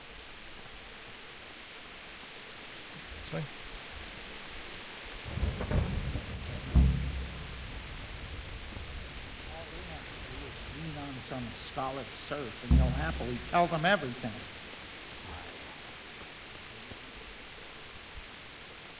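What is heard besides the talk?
rain and thunder in the video game Kingdom Come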